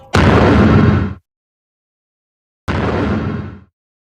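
Two loud cannon blasts in a Countryballs animation of the Burmese attack on Ayutthaya, each a sharp boom with a roughly one-second decay, separated by a couple of seconds of silence.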